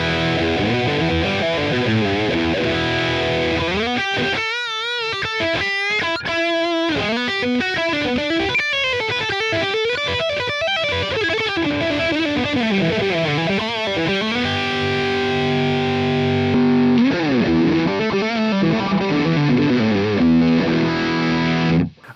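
Heavily distorted electric guitar through a Line 6 Helix modeler with gain at maximum plays a continuous riff of chugging chords and bending lead notes, loud and saturated throughout with no talking.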